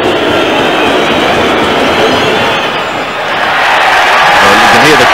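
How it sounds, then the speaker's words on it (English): A large crowd at a 1991 Australian football match between the Adelaide Crows and Carlton roars loudly and continuously, the noise swelling further as a 30-metre shot at goal is missed. "you can hear the crowd, he's missed"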